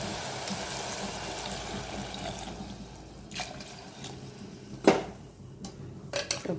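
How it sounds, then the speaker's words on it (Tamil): Water poured into beef fry in a pan, a steady liquid stream and sizzle running throughout, with a few sharp clinks of metal on the pan near the end; no talking. "இப்போ இதில் நம்ம தேவையான அளவு தண்ணி சேர்த்துக்கலாம்."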